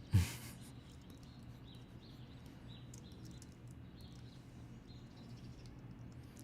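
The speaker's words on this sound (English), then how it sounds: "Those birds are a nice ambiance." Faint, high chirps from birds scattered over a quiet outdoor hush, with a soft bump at the start.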